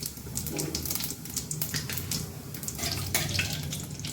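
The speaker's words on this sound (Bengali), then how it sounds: "তেল গরম হয়ে গেলে এর মধ্যে আমি দিয়ে দেবো পাঁচফোড়ন।" Panch phoron, the Bengali five-spice mix, crackles and sizzles in hot oil in a kadai, a steady bright spattering hiss with scattered pops, close and alone.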